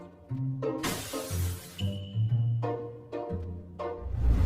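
A glass door at a train station shatters with a bright, crashing burst, then scattered tinkling fragments over a busy, music-like background.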